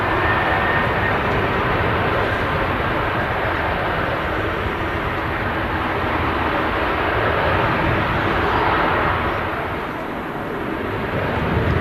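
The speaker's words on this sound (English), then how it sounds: "And on the approach, another BizJet in from Farnborough." A business jet on approach to Manchester Airport, inbound from Farnborough, gives a sustained, broad engine roar that swells slightly and then eases. It runs steadily and fairly loud with no voices.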